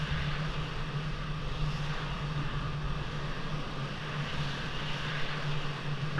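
F-16 jet engine idling while lining up on the runway in the Falcon 4 flight simulator game, a steady moderate whine and rumble with an even hum, no talking over it.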